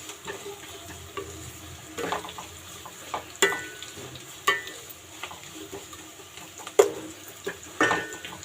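Split dry red chillies fry in a pan of oil for ragi upma, giving a soft, continuous sizzle broken by occasional sharp clinks and scrapes of a stirring utensil, quiet and close.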